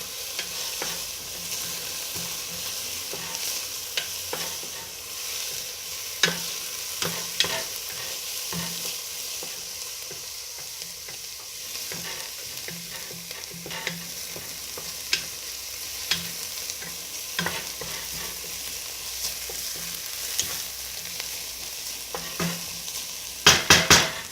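Diced onions fry in a pan with a soft, continuous sizzle while a utensil stirs them, giving intermittent scraping taps against the pan; no talking.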